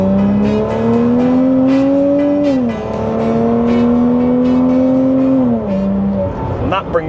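Porsche Cayman 987 flat-six through a Top Gear valved exhaust, a loud steady drone near the microphone that rises in pitch, dips briefly, then climbs again as the revs build.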